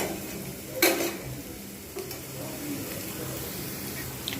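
Onions frying in a pan over low heat for a Bengali bread pulao, a soft steady sizzle with a brief louder crackle and stirring scrape near the start, faint and continuous throughout.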